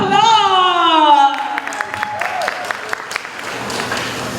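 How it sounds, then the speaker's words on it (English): Audience applauding dancers at a dance performance, scattered clapping and cheering that follows a singing voice, moderately close and steady. "give them a round of applause"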